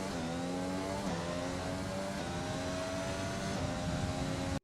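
An F1 car engine in F1 2020 screams as it accelerates out of the bus stop chicane, high and loud, climbing through quick upshifts in a steady rising whine before cutting off abruptly.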